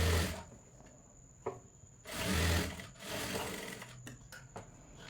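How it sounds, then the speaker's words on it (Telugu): A sewing machine runs a double stitch on fabric for a child's jumpsuit, with close, fast mechanical whirring in several bursts separated by short pauses. "మళ్ళీ నేను డబల్ స్టిచ్ వేస్తున్నాను దీనిపైన."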